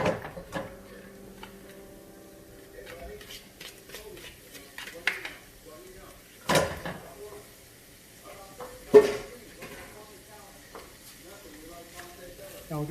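Ground beef, peppers, onions and celery sizzle in butter in a pan and are stirred with a spoon, giving repeated scraping clatters and a few louder knocks over a close, steady frying hiss, with a voice heard briefly.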